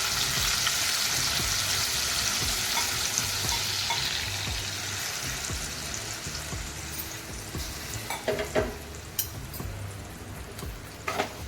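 Garlic sizzles and fries steadily in a pan as water chestnuts and a splash of water go in, the hiss softening with a few sharper clatters of stirring near the end.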